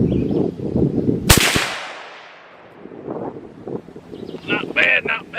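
A single loud rifle shot from a CVA Scout single-shot rifle in .45-70 Government, a sharp broadband crack with a decaying tail, bracketed by talk before and after.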